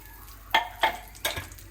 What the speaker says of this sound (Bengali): এখন ডালটা বাগার দেব তো দিয়ে দিচ্ছি সরিষার তেল আর এখন দেব কালো জিরা আর দিব গোটা জিরা